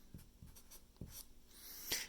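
Pen or marker writing an algebra equation by hand, a quiet close series of short scratchy strokes and taps at an uneven pace, with a brighter squeaky stroke near the end.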